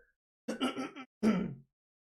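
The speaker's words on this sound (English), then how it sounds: "Let me just clear my throat a moment." Two short bursts of throat clearing, close by and distinct, separated by a brief pause.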